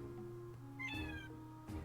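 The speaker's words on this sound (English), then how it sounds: "Oh, that's my cat." A pet cat meows once, a clear rising-and-falling call at close range, over a quiet hum of room noise.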